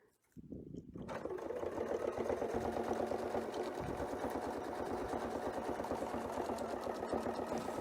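A sewing machine starts after a brief quiet moment and runs continuously, stitching a quilt with a fast, even mechanical whir and rattle, moderately quiet and close, without talking.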